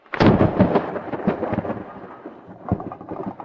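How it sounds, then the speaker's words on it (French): Storm thunder rolls loud and close in a series of rumbling bursts that swell and fade over a few seconds. "Il y a de l'orage. Maman a très peur du tonnerre."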